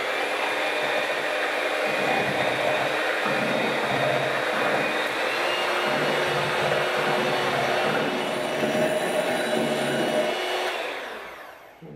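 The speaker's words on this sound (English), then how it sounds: "I'm going to whisk them until when you flip your bowl over, the whites will not fall." An electric mixer whisks egg whites for tiramisu, giving a loud, continuous motor whir close by that holds steady for about ten seconds before winding down.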